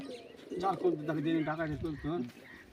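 Domestic pigeons, a caught bird with a pure white tail among them, coo softly and repeatedly close by while a person talks over them throughout.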